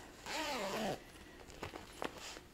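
A zipper on a fancy handmade pouch is pulled open in one quick, close raspy stroke, followed by a few soft handling clicks and rustles.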